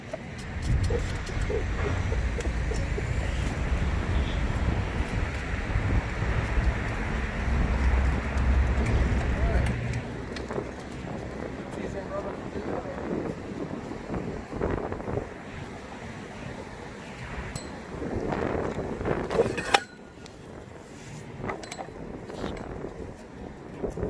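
Outdoor wind gusts rush past the microphone in a steady broadband wash, loudest in the first ten seconds and easing later, with a voice and other people talking faintly underneath.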